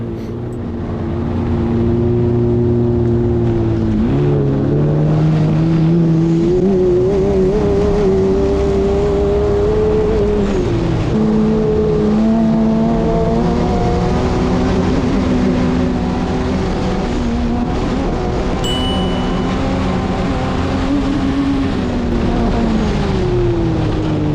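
A sandcar engine revs hard and steadily while climbing a steep sand hill at a buggy gathering, a loud sustained roar with rising and falling pitch as the throttle shifts, close to the microphone and with no speech.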